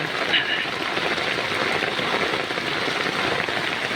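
Rain from Typhoon Carina falls on a flooded home garden of plants, forming a steady, dense patter and hiss that continues without a break.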